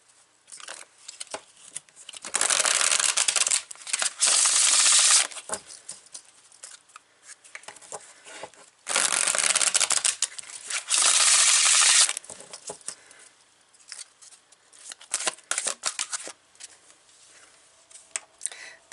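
Tarot cards shuffled and handled close up, two long bursts of loud riffling separated by softer card slides and taps.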